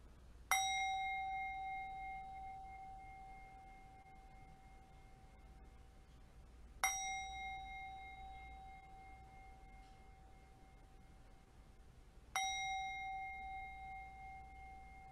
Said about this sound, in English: Let's begin this morning's service by ringing bells in celebration.